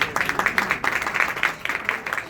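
Applause from a conference audience for a speaker: a short burst of fairly close, uneven hand clapping that surges in quick rhythmic waves for about two seconds, with no talking.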